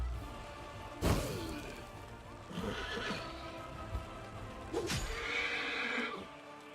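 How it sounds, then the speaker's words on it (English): Several horses whinny loudly in turn in the video game Pathfinder: Wrath of the Righteous, amid thuds and clattering hooves, with a heavy crash early on. "These dying horses."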